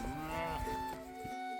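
A bull in a farm paddock bellows in a long, loud, drawn-out moo that wavers in pitch and carries on without a break, with no voices over it.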